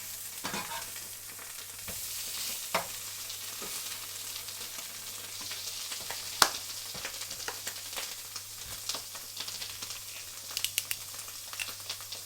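Halloumi slices frying in a pan, a continuous close crackling sizzle with scattered sharper pops throughout, no talking.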